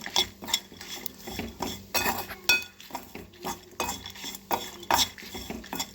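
Turmeric is dry-roasted in a pan over low heat while a spoon stirs it. Close, repeated scraping and metallic clinks come in an irregular rhythm, with no talk.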